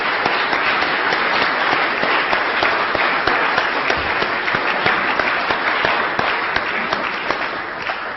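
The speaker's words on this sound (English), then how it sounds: "And you should give yourselves a round of applause as well." Sustained audience applause fills the room at the close of a conference panel on university IT infrastructure, dense steady clapping from many hands with no talk over it.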